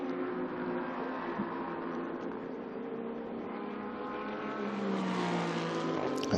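A Maserati GT2 race car crosses the line during a GT2 European Series race, its engine a sustained, fairly distant howl that rises and shifts in pitch, with no talking.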